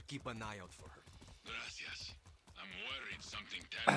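Horse hooves clop in Far Cry 6 gameplay, a steady run of hoofbeats sitting beneath nearly continuous talk.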